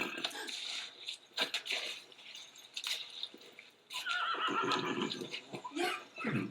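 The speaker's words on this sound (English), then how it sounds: "that one's a horse" A horse neighs in two loud, shrill whinnies with a brief gap between them, the second longer and more drawn out.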